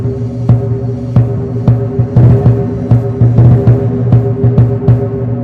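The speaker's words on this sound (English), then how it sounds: "The drum sounds something like this." A lion dance drum of cowhide and wood beaten in a steady, driving rhythm, each thud booming over a deep resonant drone, loud and close throughout.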